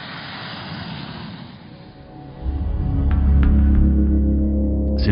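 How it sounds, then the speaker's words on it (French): The Dassault nEUROn unmanned combat drone runs on a runway, its engine sound easing off then surging into a loud, sustained roar as it accelerates, with a few brief sharp squeaks near the end. "Sur la piste, des dizaines d'accélérations et de freinages s'enchaînent à un rythme soutenu"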